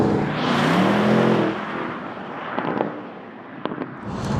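A Porsche Panamera GTS accelerates on a smooth canyon road, its engine note rising loud and close, then easing to a steady cruise with wind and road roar and a few brief transient bumps.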